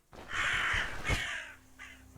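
Crows cawing in the video game Stoneshard, a couple of harsh, rasping calls close by, the first long and drawn out, followed by a shorter one.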